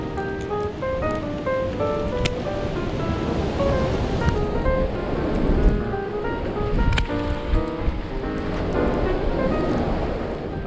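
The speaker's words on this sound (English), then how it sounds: "the wind is coming from over there and it is blowing really hard" Strong wind roaring across open snowy ground beside a snow shelter, a loud, continuous gusting rush that buffets the microphone, with some faint tonal whistling and no speech.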